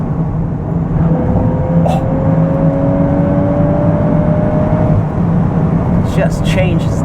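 A Volkswagen Golf R in Nürburgring mode downshifts and accelerates, its steady engine drone and rising tone heard from inside the cabin, with a brief whoosh near the end.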